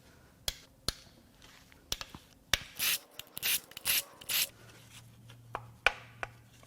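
Ratchet and hand tools working on the high pressure fuel pump housing of a Kia Sorento Lambda II V6 engine: sharp isolated clicks and knocks, then a cluster of rapid ratcheting bursts, close and fairly quiet.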